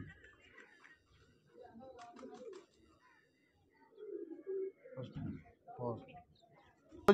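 Pet pigeons at a breeder's loft cooing in soft low bursts, mostly in the second half, faint and close, with people talking quietly around them.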